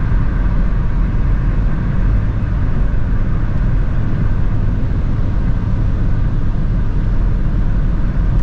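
Steady low engine drone and road rumble inside a Renault Megane 3 Icon with the 1.5 dCi 110 hp diesel, cruising at highway speed, a continuous even hum with no talk.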